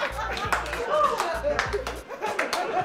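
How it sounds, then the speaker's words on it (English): A group clapping hands in a slow, evenly spaced rhythm, with people talking and laughing over the claps. "We should do one too after we edit the speech, a slow clap."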